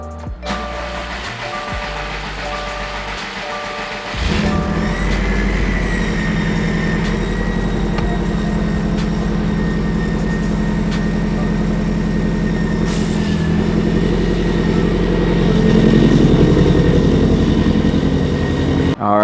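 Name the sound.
Subaru STI car engine starting and running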